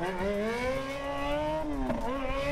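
A Yamaha Fazer naked motorcycle idles close by, its engine holding a steady low harmonic drone with slight wavering pitch and no speech over it.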